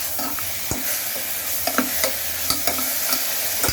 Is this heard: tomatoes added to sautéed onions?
yes